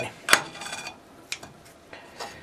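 Steak being snipped into small pieces with kitchen scissors during home cooking: a few separate sharp metallic clicks and cuts at irregular intervals, close and fairly quiet, with no talking.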